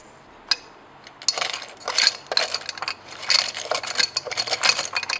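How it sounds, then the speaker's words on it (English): A chemical suspension mixture being stirred in laboratory glassware while nitrourea is reduced to semicarbazide, heard as a run of light glassy clinks and scrapes in quick irregular bursts, close and moderately loud. "after adding about 1 ml of the suspension we stir the mixture up again"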